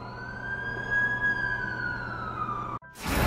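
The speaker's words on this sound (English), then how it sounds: "That's the ambulance I called." An ambulance siren in The Amazing Spider-Man 2 game wails with a steady, slowly falling tone that holds for nearly three seconds before cutting out abruptly, followed by a rising burst of noise.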